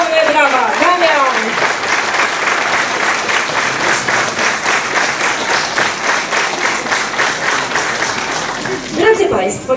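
Sustained audience applause at a Polish tribute concert, loud and steady throughout, with a voice rising briefly under the clapping near the start and another speaking as it fades at the end.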